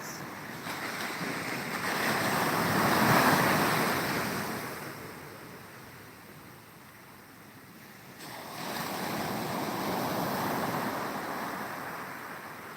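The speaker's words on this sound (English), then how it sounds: "when the waves go back, the water go back" Ocean waves on a beach in Ghana wash in and draw back in long, broad rushes of surf, swelling and fading twice. Steady wind noise sits over the water.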